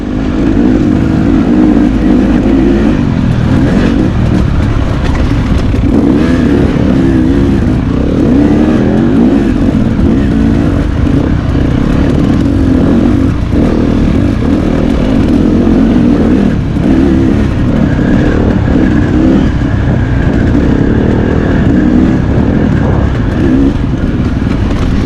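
Dirt bike engines, a two-stroke KTM 250 XC-W and a four-stroke Yamaha WR250F, rev hard and steadily while racing around an off-road course, loud and close throughout with no talking.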